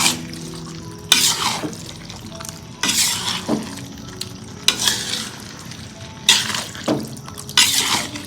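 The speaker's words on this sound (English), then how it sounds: "I'm going to give it a good stir so that it all gets mixed and infused with the spices." Marinated chicken being stirred in a big kadai for chicken varuval, loud sizzling frying broken by repeated scraping stirs about every couple of seconds, close and without speech.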